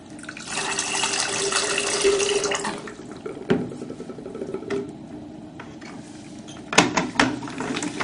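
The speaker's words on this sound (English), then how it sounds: "And rinse the sensors and calibration cup with water." Tap water rinses YSI 6600 sonde sensors and the calibration cup. Running water flows strongly for about three seconds, then comes a thud, some drips and clunks, and a sharper knock near the end. No one speaks.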